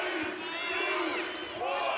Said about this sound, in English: Spartan crowd trying to throw off the shot clock